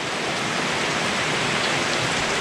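Steady rain falls during a house renovation and garage build, a dense, even hiss of drops on surfaces that holds unbroken and fairly loud throughout, with no voices.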